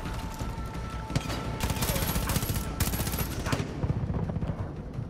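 Machine gun fire in Far Cry 5 rattles in rapid, dense bursts, loud and close, with fast repeating shots running through most of the few seconds.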